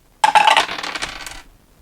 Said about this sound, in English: open it up and see if we can run some dice through here